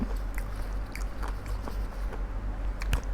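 Close-up crunching bites and wet chewing of crunchy squid cheek, repeated in a loose rhythm.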